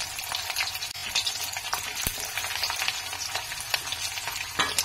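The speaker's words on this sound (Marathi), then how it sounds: "तेल गरम झालेलं आहे, ह्याच्यामध्ये आता आलं घालून घ्यायचंय। 5-6 लसूण पाकळ्या घेतल्या तर त्या पण घालायच्या आहे" Ginger and garlic frying in hot oil in an iron kadhai, a loud steady crackling sizzle with sharp spits and pops and a few stirring scrapes throughout.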